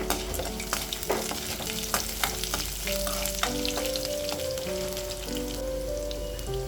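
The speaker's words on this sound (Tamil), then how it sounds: "பூண்டு நல்லா கொஞ்சம் வதங்கி கலர் மாறி வரும் பாருங்க" Crushed garlic cloves sautéing in oil in a pan, a constant crackling sizzle with spattering pops and occasional scrapes of stirring, close and steady over a low hum.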